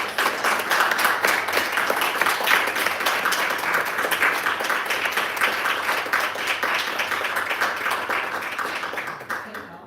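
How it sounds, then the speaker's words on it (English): Sustained audience applause at a library writer-in-residence celebration, dense steady clapping for nearly ten seconds, fading slightly toward the end. "Can we give a huge round of applause?"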